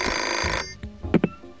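A telephone rings in the Pajama Sam 2 video game: a steady electronic ring for just over half a second, then a few brief clicks and tones.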